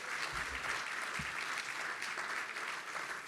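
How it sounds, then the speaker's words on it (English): Applause from the audience at the Public Citizen 2025 gala, a continuous, even wash of clapping from a large room, with a few low thumps underneath. "and give them a round of applause."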